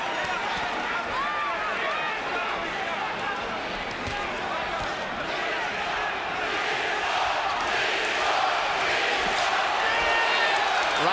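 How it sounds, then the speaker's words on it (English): Boxing arena crowd at a Klitschko heavyweight fight, a dense continuous roar of many voices chanting together, steady and loud throughout with a commentator talking over it. "the crowd is chanting Klitschko's name"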